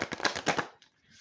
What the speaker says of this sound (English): Now I'm going to do a bridge shuffle.